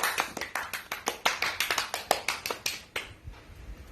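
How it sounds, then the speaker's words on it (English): Crisp, closely miked hand claps at an awards ceremony honoring winners, an evenly paced run of separate strokes that stops near the end, leaving a quiet tail. "So we give a round of applause to all of our winners."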